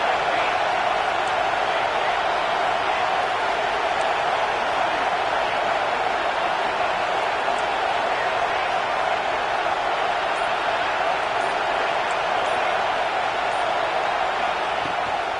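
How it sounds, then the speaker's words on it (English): A steady, dense roar of stadium crowd noise fills the air continuously, loud and unbroken throughout. "This crowd bringing the energy and noise early."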